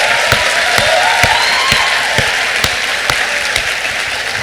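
Applause during a sermon, a broad steady crowd clapping with sharp individual claps standing out at a regular pace, a faint voice briefly threading through.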